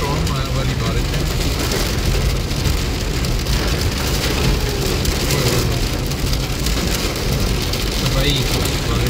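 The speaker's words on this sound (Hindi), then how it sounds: "बहुत तेज बारिश है, तो स्टॉर्मी रेन स्टॉर्म वाली बारिश है।" Heavy rain and hail pound a car while it drives through a storm, a dense, continuous roar of drops on the body and glass with engine rumble beneath and someone talking over it.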